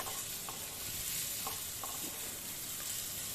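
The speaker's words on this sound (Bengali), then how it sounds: "পটল আর বেগুনগুলো ভাজা হয়ে গেলে আমি তুলে রাখছি" Pieces of pointed gourd and eggplant fry in a pan, giving a continuous steady sizzle with occasional soft stirring clicks, close and even throughout.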